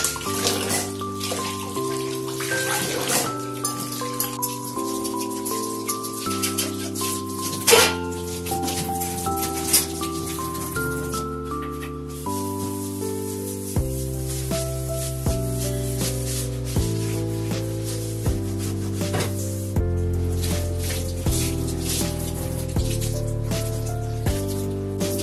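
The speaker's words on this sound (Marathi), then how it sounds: "आता मी फटाफट भांडे घासून घेते" Dishes are scrubbed and rinsed under a running tap in a kitchen sink in winter, a continuous stream of water splashing with repeated clinks and clatters of utensils throughout.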